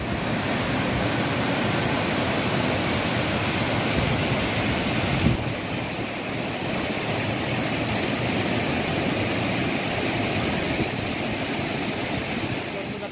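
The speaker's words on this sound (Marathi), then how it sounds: "खरोखर छान असा धबधबा आहे." Vyaghreshwar waterfall in Manche, Devgad, Sindhudurg, pours in a loud, steady broadband rush heard up close. The roar stays constant throughout, with some wind buffeting the microphone.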